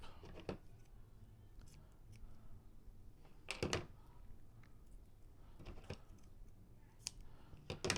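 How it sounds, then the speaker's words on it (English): Scissors cut a strip of card for a circle card in a few separate close snips and crisp cuts, spaced by quiet pauses and light handling noise. "I'm just going to do the same thing, cut a fairly decent strip"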